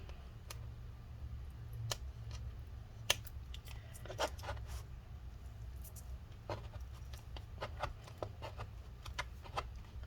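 Adhesive being peeled up inside a 15-inch Retina MacBook Pro A1398 (Mid 2017) during battery replacement: faint scattered ticks and crackles over a steady low hum, quiet and close, with no talking.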